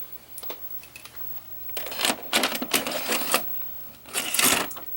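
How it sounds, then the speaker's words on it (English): A 1998 RCA Home Theatre VCR with a worn belt and trouble rewinding and fast forwarding loads a tape. Its mechanism clicks and whirs up close in irregular clattering bursts, growing busier midway, with no talk. "I'll show you what happens when I put a tape in."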